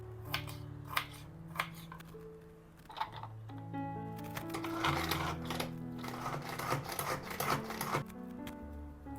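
A knife chops a tomato into small pieces on a board in a home kitchen, a series of soft irregular taps and cuts heard with quiet background music.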